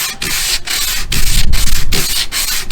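Hand sanding of freehand-carved wood lines and corners with 220 grit abrasive wrapped around a 7/8 form, giving steady close rasping rubs in repeated strokes with brief pauses between passes.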